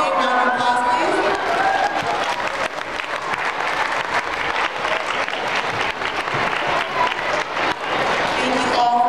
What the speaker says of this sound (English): Let's give them all a big round of applause, please